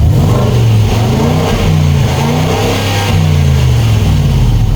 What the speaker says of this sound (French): je vous rappelle dans quel V8 Supercharger on se trouve. Un V8 qui fait 525 chevaux.